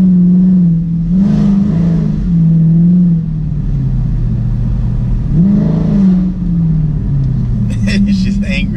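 A Dodge Charger Daytona 392 engine revs and surges in two swelling bursts, a loud steady rumble underneath, with people talking over it inside the car.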